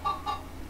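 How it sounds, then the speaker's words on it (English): Chickens in the Minecraft Story Mode video game giving two quick, clear clucks in succession, close and fairly loud over a quiet low hum. "Have you talked to the chickens? How's it going, chickens?"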